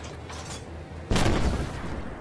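A tank cannon fires in the video game Armored Warfare, one sudden heavy blast that breaks in midway and rolls on as a broad, loud rumble under steady game noise.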